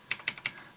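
A command is typed on a computer keyboard at a Windows Server 2019 machine: three crisp, evenly spaced key taps close by, each with a fainter click between them, with no talking.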